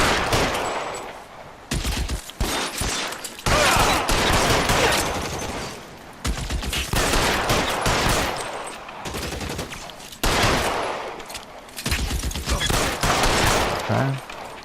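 Repeated bursts of gunfire in the video game L.A. Noire during a shootout against a surrounded gang, loud, dense volleys that come and go in several waves across the stretch.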